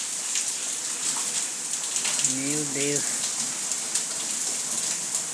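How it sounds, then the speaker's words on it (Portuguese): Continuous patter of rain, even and enveloping, with a person briefly speaking an exclamation partway through. "É chuva o dia todo."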